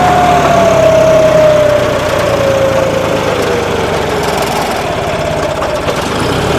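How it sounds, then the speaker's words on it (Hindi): A John Deere 5210 tractor with four-wheel drive disengaged labours under load with its engine nearly stalling, heard as a loud, close, steady rumble whose drone slowly drops in pitch. "अब देख लो ये ट्रैक्टर ही बंद होने को फिर रहा है।"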